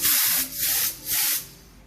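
Sealant coating hisses out of a spray gun onto a car's wheel arch during undercarriage sealing, arriving in three loud, close bursts with brief gaps between them.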